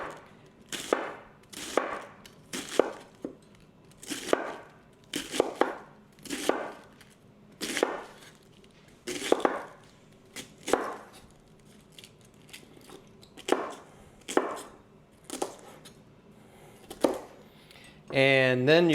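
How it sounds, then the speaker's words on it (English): A knife cuts a head of cabbage into thin slices for home-fermented sauerkraut, giving about fourteen crisp, evenly spaced chops that ring out loud and close with no talk over them. "I just turn the cabbage one way and just do some reasonably thin slices"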